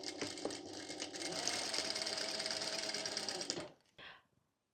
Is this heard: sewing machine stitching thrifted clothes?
yes